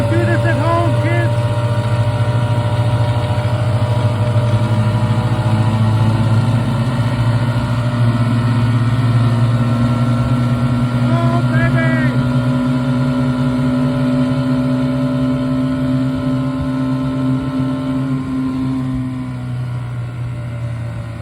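Three vintage 17hp Mercury outboard motors run together at steady partial throttle, a loud continuous low drone with a slight drop in level near the end.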